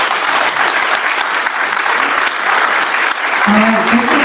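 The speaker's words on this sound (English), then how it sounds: "Let's give them a round of applause." Audience applause at a business conference, loud sustained clapping from a seated crowd that stays even for the whole stretch, with a faint voice near the end.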